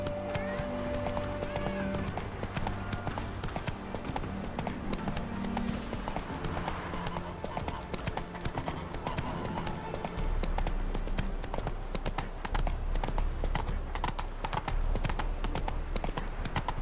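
Roach, the horse in The Witcher, gallops in a fast, continuous clip-clop of hooves, close and prominent, over game music and ambience throughout.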